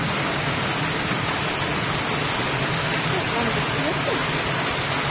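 A steady, unbroken hiss of a strong downpour fills the whole stretch at an even loudness, with the heavy rain drumming outside.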